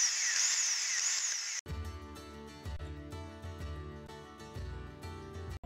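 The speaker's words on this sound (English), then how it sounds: "To drill bamboo, craftsmen commonly use electric hand drills." An electric hand drill bores into bamboo, opening with a brief hissing burst and then settling into a high, tonal motor whine that rises and dips as the bit bites and eases.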